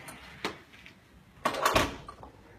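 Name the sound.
door being closed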